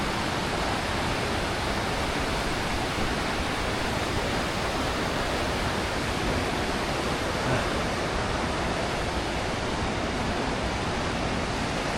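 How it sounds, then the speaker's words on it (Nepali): A clear mountain river on the Shey Phoksundo trek rushes steadily, a broad, constant roar of flowing water, loud and close, with no voices heard. "तपाईँको खोलाहरू हेर्नु, खोला त होइन नदी होला, यस्तो सफा नि तपाईँको"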